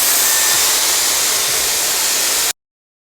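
Hair dryer running steadily at close range while pre-drying hair with a brush, a continuous airy whoosh that cuts off abruptly after about two and a half seconds.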